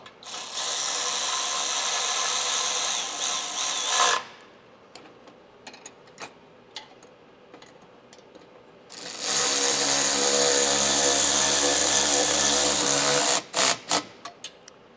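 A power tool whirs loudly in two bursts of several seconds each with a quiet pause between them, followed by a few short clicks and quick pulses, while tightening bumper bolts on a Toyota 4Runner.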